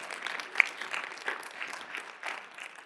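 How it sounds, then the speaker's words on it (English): Audience at a poverty summit in Milwaukee claps steadily in a soft, fairly distant round of applause that continues at an even level. "Y'all can clap for that, it's all right."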